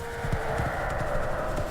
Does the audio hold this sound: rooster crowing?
no